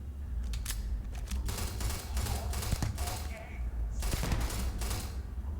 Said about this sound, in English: I think the problem is the burst fire mode